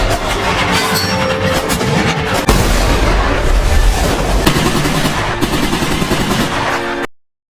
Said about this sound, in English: Francis issued a warning by shooting Eddie in the head.